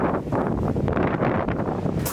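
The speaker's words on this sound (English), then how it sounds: "It's crazy windy here." Strong wind buffets a campsite, gusting loudly against the microphone with rumbling low roar and shifting bursts, near and continuous with no talk.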